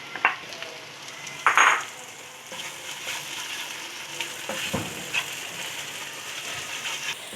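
Onion, ginger and green chillies frying in ghee in a karahi for mutton curry, a continuous close sizzle with a few sharper scraping bursts from stirring, fairly loud and with no talking.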